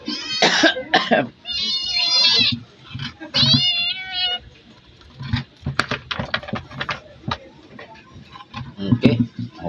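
A cat meows a few times while eating its freshly caught prey, with drawn-out, close calls early on followed by quieter clicking and chewing sounds.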